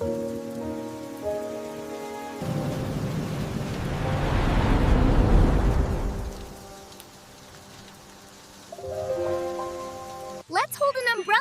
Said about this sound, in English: Do you hear the music the rain is playing just for us?